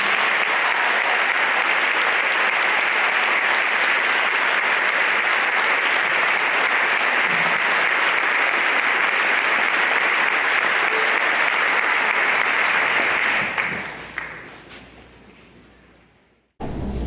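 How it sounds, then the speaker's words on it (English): Loud, dense audience applause at a high school band and choir pops concert, a steady roar of clapping for about thirteen seconds before it thins out and fades into near silence. "So give her a round of applause."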